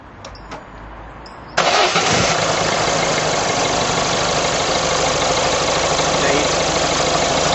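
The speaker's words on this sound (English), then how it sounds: "I'm just going to start the engine" After a quiet moment, a car engine suddenly fires up and settles into a loud, steady running roar.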